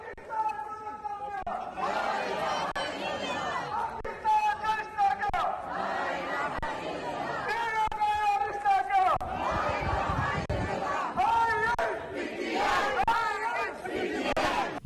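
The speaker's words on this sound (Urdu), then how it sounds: "اس موقع پر کارکنوں نے شدید نعرے بازی کی، فضا پاکستان زندہ باد اور دیگر پارٹی نعروں سے گونجتی رہی۔" Crowd of PTI supporters at a London protest rally chanting party slogans, loud rhythmic massed voices with shouted calls and responses rising and falling continuously throughout.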